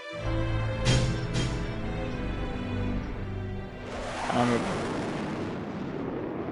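Smart missiles launching from a mech in the video game Project Nimbus, two sharp blasts in quick succession over a droning background, then a broad roaring whoosh and rumble building up, with a voice speaking.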